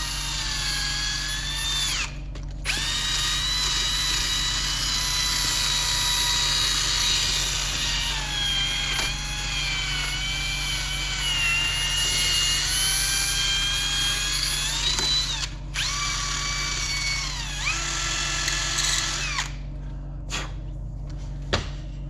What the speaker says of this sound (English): We're gonna use the wire drill. Gonna kind of go around everything.